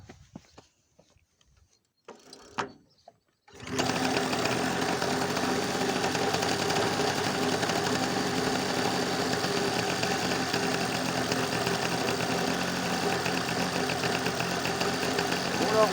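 Solex moped engine cranking with a few clunks, then catching and running with a steady, buzzy, close putter that continues without letup.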